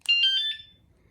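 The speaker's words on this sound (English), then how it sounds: "Armed, and you wait 5 seconds, you hear another beep." An economical motorcycle alarm chirps as it is armed, giving four quick, piercing electronic beeps close by in about half a second, then falling quiet.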